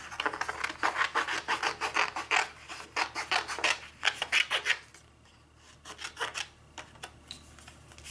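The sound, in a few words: fussy cutting paper with scissors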